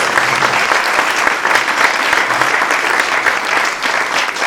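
A warm round of applause from mourners at a memorial gathering, loud and dense clapping continuing without a break throughout, close and full.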